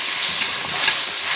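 Mustard and poppy seed spice paste sizzles in hot oil in a pan, giving a steady, close hiss with faint crackles and no voices.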